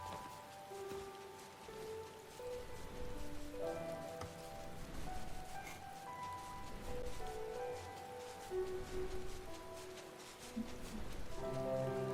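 Rain in Final Fantasy XIV Stormblood: a soft, steady patter and hiss of rain on surfaces running throughout, faint and low, beneath layered game music with drifting melodic tones.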